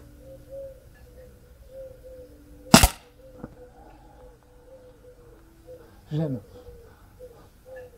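A single sharp crack from an air pistol, a Gamo PR776 or Stoeger X-Sport, stands out during outdoor target shooting. Soft pigeon coos and faint ambient noise sound around it.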